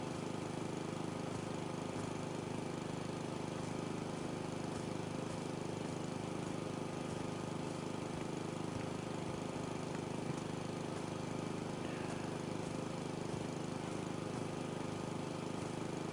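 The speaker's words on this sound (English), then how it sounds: "I think I prefer the lawnmower in the first house flipper, though, compared to this one." Steady droning motor of a lawnmower cutting grass in House Flipper 2, a continuous mid-pitched engine hum that holds at an even level throughout with no pauses.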